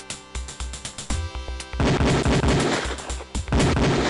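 Beretta pistol fire on a police firing range in the video game Police Quest 4: loud, close, rapid shots in quick succession, with booming reports layered over one another into a dense barrage.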